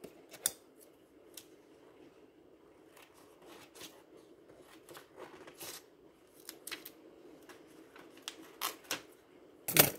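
Scissors snip through tracing paper in a series of sharp, irregular cuts, close and crisp, with soft paper rustling between the snips.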